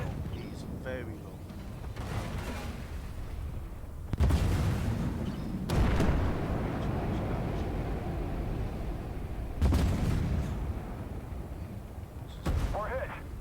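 Heavy booming impacts strike an armoured tank in the game Armoured Warfare, four or five loud deep blasts over constant rumbling engine noise, with voice callouts in between.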